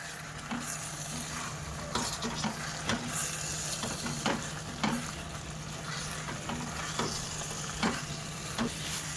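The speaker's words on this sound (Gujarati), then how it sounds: "અને પછી એકદમ ખોલા હાથે, હળવા હાથે મિક્સ કરીશું." Stuffed kantola being gently mixed with spice paste in a sizzling pan, soft spatula scrapes landing in a steady rhythm over a constant frying hiss, close and clear with no talking.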